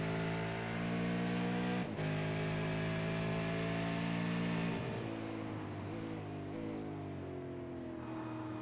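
V8 Supercar race cars at Mid Ohio, a steady loud engine drone that holds a high pitch and then drops as a car brakes and downshifts, heard from trackside with no one talking.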